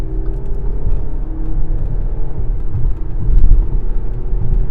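A 2013 Audi SQ5 launches hard from a standstill carrying three people and a full tank, its engine a loud, deep rising roar heard from inside the cabin, with no talking.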